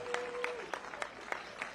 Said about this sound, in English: a round of applause for our mixed doubles gold medalists